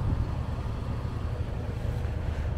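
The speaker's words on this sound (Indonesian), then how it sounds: "Mesinnya lagi nyala biar nggak terlalu panas lah ya." A modified Mazda 3 sits with its engine idling, giving a steady low rumble mixed with wind-like noise throughout, without any talking.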